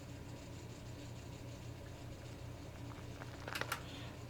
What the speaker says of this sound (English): as well as a crunch here that I've used on a few tracks now